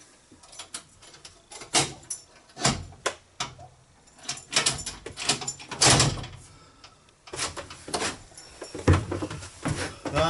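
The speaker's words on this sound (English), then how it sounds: "So we'll put the Euro lock in." Euro lock cylinder being fitted into narrowboat bow doors, cut-down roundhead screws at hand: a run of close, sharp metallic clicks, knocks and scrapes at irregular intervals, with no one speaking.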